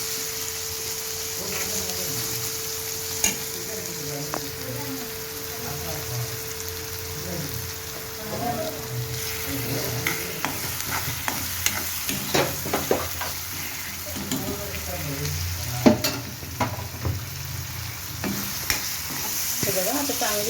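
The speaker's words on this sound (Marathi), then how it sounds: "चांगली तेलावर अशी परतून घ्यायची" Ginger-garlic paste sautéing in hot oil for pav bhaji, a steady close sizzle with scattered stirring scrapes and ticks throughout, no voices.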